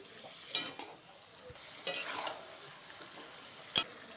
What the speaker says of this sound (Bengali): চিনিটা দিয়ে আবার ভালো করে নাড়িয়ে দেব।